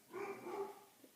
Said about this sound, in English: Sorry about that dog barking.